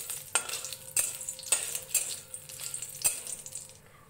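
Mustard oil sizzles in a wok with black cumin, a bay leaf and a dry chilli, a close, crackling fry punctuated by several sharp metallic clinks of a spatula against the pan, with no talking.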